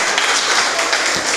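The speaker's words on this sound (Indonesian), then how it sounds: "Tepuk tangan untuk golongan darah O ya." A studio audience at an Indonesian breakfast talk show for teachers claps steadily for about a second and a half, a dense, even patter of many hands at close to moderate distance with no pauses.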